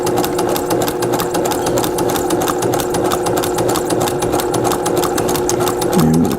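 A sewing machine quilting a small quilt runs steadily and loudly up close, its needle hammering in a fast, even rhythm throughout with no pauses or voices.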